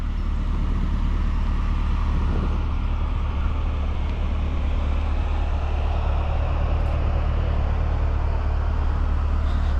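A 2022 Chevrolet Corvette C8R edition Z51 cruises along, heard from inside as an even, continuous rumble of engine and road noise with no sharp events.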